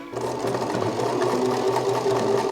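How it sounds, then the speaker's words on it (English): A sewing machine stitches a patchwork quilt seam, humming steadily and close up, running without a break and with no talking. "And now I'm going to sew down this line."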